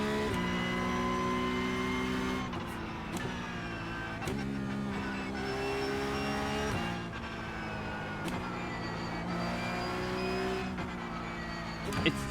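Porsche 911 Cup 992.2 race car in iRacing, engine droning and climbing in pitch through gears with repeated sharp upshifts and downshifts while braking into corners, loud and close, with a driver talking over it.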